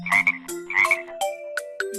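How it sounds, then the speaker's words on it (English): Frog croaking in a run of several short, loud, rasping calls with tonal trailing notes, heard alone and close with no talk. "F is for frog."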